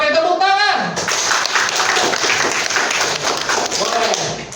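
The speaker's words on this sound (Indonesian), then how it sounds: "Oke, tepuk tangan." A classroom of students claps hands together in a dense, continuous burst, loud and close, with some voices at the start and end.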